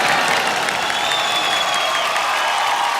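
An audience at the IIFA 2023 awards show claps steadily, a dense, even wash of applause held at constant loudness with faint cheering mixed in.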